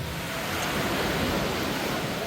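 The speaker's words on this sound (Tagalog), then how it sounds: "Ang sarap talaga ng sound ng alon, no?" Sea waves washing onto a beach at El Nido, Palawan, a continuous close wash of surf that stays even and fairly loud throughout the short stretch, with no talking over it.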